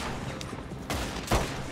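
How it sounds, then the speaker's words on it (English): A single loud gunshot in Red Dead Redemption 2 cracks out near the end, with a fainter earlier shot, over a steady game ambience. "That was a good shot."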